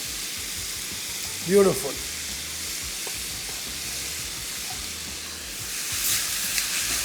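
Tomatoes sizzle and fry as they are sautéed in a pan for paneer khurchan, a steady close hiss throughout with a brief word spoken early on.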